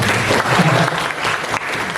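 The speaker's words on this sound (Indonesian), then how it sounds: "Tepuk tangan dong." Audience applause at a youth entrepreneurship seminar, a steady dense wash of clapping filling the whole stretch, loud and close, with a little crowd murmur underneath.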